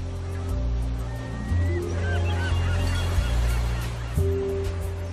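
Loud, honking gull-like calls repeat at a lonely beach near Morro Bay on the California coast, close and harsh, layered over a low steady rumble of wind and surf.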